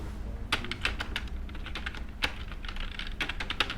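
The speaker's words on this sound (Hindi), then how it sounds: "तो आप अल्ट सी प्रेस करिए और यहाँ पे लिखिए" Keys clatter on a computer keyboard while the Alt+C shortcut is typed during Tally accounting software work, a close, steady run of crisp clicks with no voice over them.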